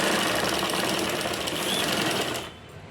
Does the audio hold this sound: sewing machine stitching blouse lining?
yes